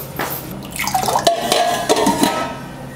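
Water poured into a cup in a home kitchen while making millet payasam, a loud close splashing pour with dripping and trickling that rises in pitch as the cup fills.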